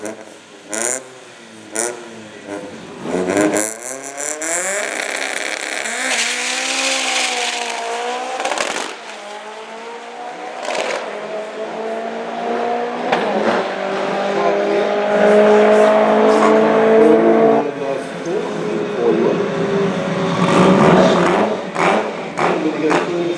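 A Classic Mini on a drag strip at an Outlaw Street event, its engine revving in repeated rising pitch sweeps that build louder toward the end, with people talking over the noise.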